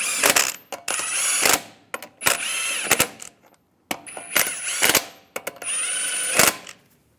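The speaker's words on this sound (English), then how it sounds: "Put the lug nuts on." Lug nuts being threaded back onto a wheel of a 2007-2013 Chevy Silverado 1500, heard as repeated bursts of ratcheting and spinning tool whir with short pauses between, close and fairly loud.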